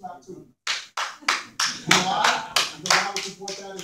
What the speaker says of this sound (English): Let me clap to him.